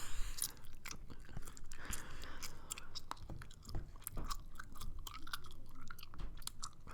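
Wet, crackly chewing sounds repeat steadily with small clicks and smacks, close to the listener, with no talking.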